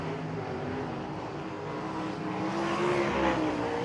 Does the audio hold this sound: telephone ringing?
no